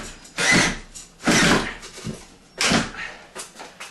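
Drill driving a screw into wooden backing behind sheetrock in three short, loud, close bursts, each followed by fainter clicks and handling noises.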